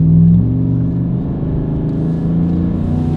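A tuned Chevrolet Silverado pickup's engine rumbles deep and loud up close, with a brief rev at the start settling into a steady throaty burble while driving.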